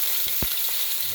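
Meat browning in a hot pan for Italian Sunday gravy, a steady close sizzle with a brief low thump partway through.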